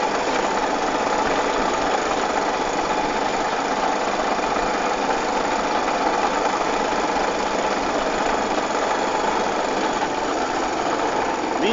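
A motorcycle idles at night on a dirt road, a steady, close, buzzing engine hum running continuously without change and heard alone.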